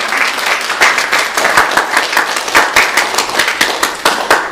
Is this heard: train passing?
no